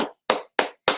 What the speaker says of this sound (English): You all should give yourselves a big round of applause because you did so great.